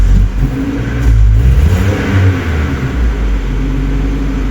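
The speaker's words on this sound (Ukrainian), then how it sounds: "Нажимаємо сильно на педаль газа, вона давиться." A car engine with a faulty throttle valve and low fuel pressure chokes and stumbles as the accelerator is pressed hard, giving a loud, close, uneven low rumble that surges and sags without talk.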